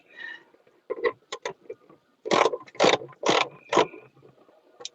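Several sharp ratcheting clicks and clacks as a wrench loosens a car battery terminal clamp during an inverter install, a few short bursts close up with brief pauses, then louder grinding turns.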